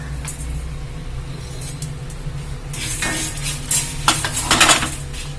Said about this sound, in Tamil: இப்போ இந்த மிளகாவும் தனியாவும் போடுறேன்.